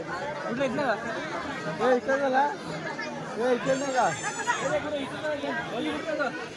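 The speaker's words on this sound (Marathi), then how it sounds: "पण आता गर्दी फुल झालेली आहे" A crowded village fair (jatra) buzzes with dense, overlapping chatter from many people close by. The babble runs steadily throughout.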